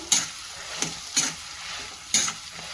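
A spoon works a spiced potato filling for bread pakoda in a bowl, giving four separate scraping, squelching strokes spread across a few seconds, close to the listener, with no voices.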